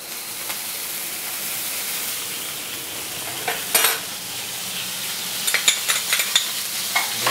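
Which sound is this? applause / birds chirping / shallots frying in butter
shallots frying in butter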